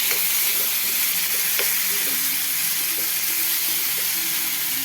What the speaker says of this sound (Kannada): ಈಗ ಟೊಮೆಟೊ ಕಾಯಿ ಹಾಕೋತಾ ಇದ್ದೀನಿ. ಟೊಮೆಟೊ ಕಾಯಿನೂ ಚೆನ್ನಾಗಿ ಹುರಿಬೇಕು.